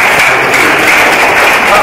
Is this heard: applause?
yes